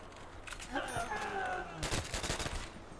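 M1 carbine firing in a Call of Duty video game, a quick string of sharp shots after a brief rising in-game tone, fairly close and moderately loud, with no talking.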